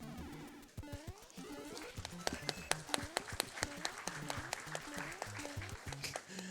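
Audience applause at a Super Mario Bros. 3 co-op speedrun event at GDQ, a sustained crowd clapping under game music and sound effects.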